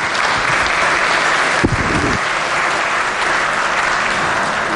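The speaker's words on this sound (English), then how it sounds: "with his parents, Carrie and Stephen Straley, so everybody please give him a round of applause" Sustained applause fills the West Virginia legislature chamber, a dense, steady clapping from many hands that holds evenly throughout.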